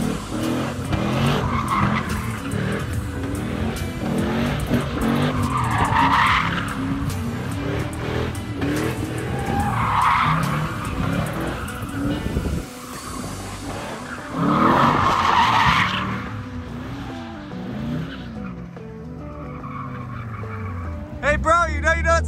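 An LS3-swapped 240SX drifts on a skid pad, tires squealing and skidding in repeated loud surges as the engine revs rise and fall, heard from outside the car.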